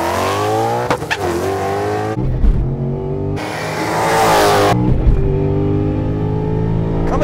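A 700+ hp 2015 Ford Mustang GT launches at the drag strip, its engine roaring loud and harsh, revving and bogging with abrupt shifts in pitch, with hints of tire chirp through the pull.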